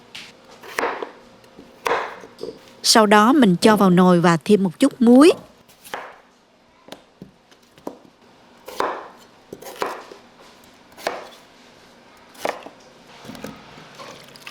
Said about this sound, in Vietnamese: Đầu tiên mình gọt vỏ khoai tây và cắt nhỏ ra.